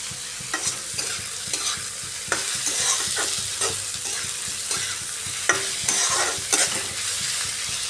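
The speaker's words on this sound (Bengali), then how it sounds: "আর একটু ভাজা ভাজা করে নিই পেঁয়াজটাকে" Chopped onions sizzling in a pan for a Bengali fish-head kata chorchori, a continuous bright fry broken by regular stirring scrapes up close, with no one talking.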